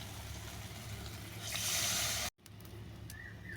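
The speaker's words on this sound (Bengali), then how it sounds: "এবার আমি জল দিয়ে ফুটতে দেবো" Water added to a fish curry masala hisses and sizzles in the pan as it heats toward a boil, a steady close crackle that swells briefly before cutting off, then quieter bubbling.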